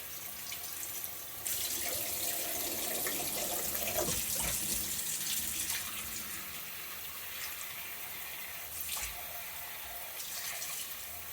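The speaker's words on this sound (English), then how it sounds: "This is hopefully just going to be washing out soap and vinegar at this point." Tap water running into a sink to rinse soap and vinegar out of dyed wool yarn, a steady hissing gush with splashing shifts as the flow hits the yarn, close and continuous, no voices.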